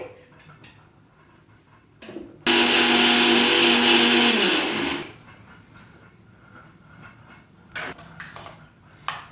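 A kitchen mixer grinder whirs loudly for about two and a half seconds while grinding tomato for a masala curry gravy, then cuts off, leaving a quiet room with faint handling noises.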